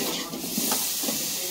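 Water splashed into a hot pan of Bengali chicken kosha sets off a steady broadband hiss of steam that holds for the full moment, fairly loud with faint clatter underneath and no voices.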